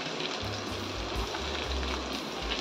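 Chillies, garlic and onion frying in a pan for a ladies finger fry, a steady close crackle and sizzle with a low rumbling undertone throughout, no voices.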